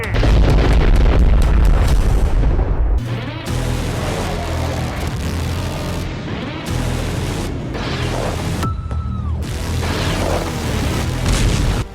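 Missile strikes on enemy targets rendered as loud, dense booming explosions with rumbling low end, a sustained barrage that drops slightly after about three seconds and carries on with bursts and crackles throughout.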